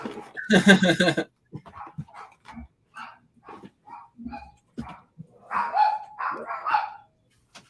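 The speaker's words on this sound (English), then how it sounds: "because my dogs are barking." Several sharp dog barks in a quick burst, then scattered yips and quieter barks spread over the following seconds, close and loud.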